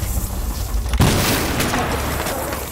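A loud breach charge blast in a ranked tactical shooter game goes off about a third of the way in: a sharp boom with a broad burst that rings on, following low rumbling game ambience and faint chatter.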